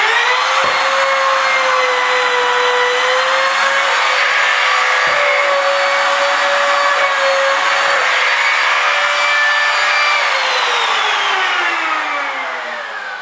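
A trim router chamfering the edge of an MDF board, a loud steady high whine running continuously before the motor begins to wind down at the end.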